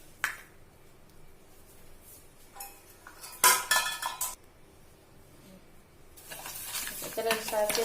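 A spoon stirs sugar into milk in a bowl while a malai cake is prepared, with scattered clinks and scrapes against the dish and a louder burst of rattling stirring toward the end.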